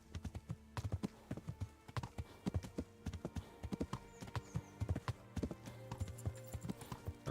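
Horse hooves galloping at speed in the medieval game Kingdom Come: Deliverance, a rapid, steady clip-clop rhythm running throughout, moderately quiet with a faint ambient background.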